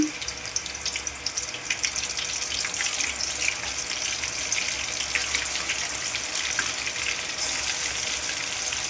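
Chicken pieces crackle and hiss as they deep-fry in hot oil for chicken fried rice, a steady, close, continuous sizzle with no talking.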